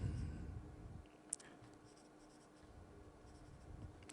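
Pen writing on the back of a paper helmet brochure, faint scratchy strokes close by in a quiet room, with one sharp click near the start.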